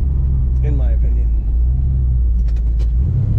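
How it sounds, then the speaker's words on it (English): A 1971 Chevrolet Nova two-door sedan rumbles out of its exhaust while driving, a steady deep close drone, with a brief voice near the start and a few clicks late on. "This car has a really good exhaust sound,"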